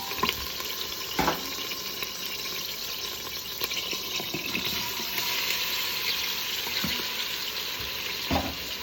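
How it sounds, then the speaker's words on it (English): Beef tips sautéing with garlic and ginger for a keto zucchini noodle ramen, a steady close sizzle with a few brief stirring scrapes and clinks, no one talking. "we're also going to throw in our beef tips because we're going to saute those"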